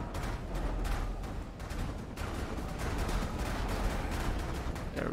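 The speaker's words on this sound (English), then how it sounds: "Double cannons. Let's fire." Twin cannons fire again and again in the video game Path of Exile, a dense run of sharp booming blasts with rumbling low-end impacts, loud and close throughout.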